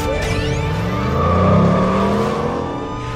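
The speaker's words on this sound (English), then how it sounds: "That just make like a rubber tire screech noise?" In a scene from the film The Fifth Element, a vehicle's rubber tires screech over a loud, rising engine roar, the sweeping squeal swelling then fading over a few seconds.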